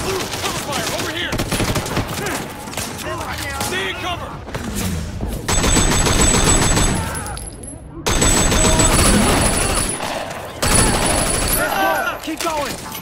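Heavy gunfire in a Sleeping Dogs firefight, with bursts of automatic fire and rapid shots in loud waves over a dense battle din, while voices shout orders through the clash.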